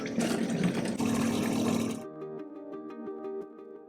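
A public drinking water dispenser in Chiang Mai, Thailand fills a bottle with a loud, steady rush of water for about two seconds, then cuts off, leaving a quieter tonal hum with faint clicks.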